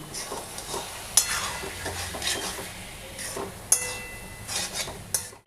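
Ghee going into a pan of bottle gourd and coconut curry, with soft sizzling, stirring scrapes and a few sharp metallic clinks of a utensil against the pan, close and intermittent.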